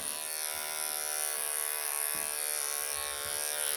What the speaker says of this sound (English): I've got to get my clippers underneath it.